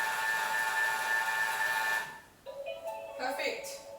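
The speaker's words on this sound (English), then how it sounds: "I'm going to blend that again, just to mix that all through really" A blender whirs at low speed mixing a dip, a steady whining motor hum for a couple of seconds before it cuts off and a person starts talking.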